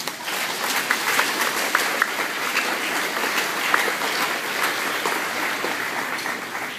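Graduation audience applauding a class, a broad steady wash of many hands clapping, moderately distant and even, with a few sharper claps standing out.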